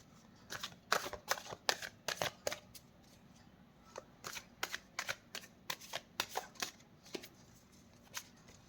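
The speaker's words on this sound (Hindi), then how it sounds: "और कार्ड्स लेते हैं।" Tarot cards are shuffled by hand in close, quiet bursts of crisp riffling snaps, two clusters of rapid flicks separated by a short pause, with no talking.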